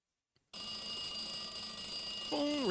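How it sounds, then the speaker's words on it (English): Alarm clock in The X-Files Game starts abruptly after a moment of silence, a steady shrill ringing with high sustained tones that continues to the end, where a sliding warbling tone joins in. "So we heard the alarm clock."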